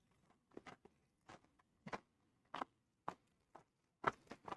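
Homemade caramel corn crunched in short, crisp bursts, several separate bites spaced irregularly, close and fairly quiet with no talking.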